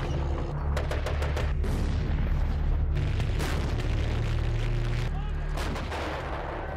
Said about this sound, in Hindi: आग उगलती तोपें